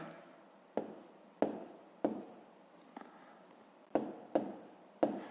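Pen strokes scratch on paper while long division is worked out, coming in short separate bursts with pauses between them, close and moderately loud.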